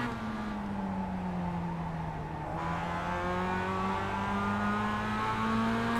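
A Mazda MX-5 Cup race car in iRacing at Okayama drones steadily at high revs, its engine pitch dipping and then climbing again through a gear change, loud and close without any voices.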